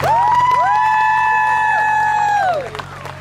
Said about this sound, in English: can we get a quick round of applause for those of them holding the gold balloons?